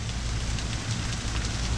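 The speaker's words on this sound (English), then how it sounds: "It's raining" Steady rain falls outside over a garden in the Deep South, a constant soft hiss with low rumbling beneath, heard alone without voices.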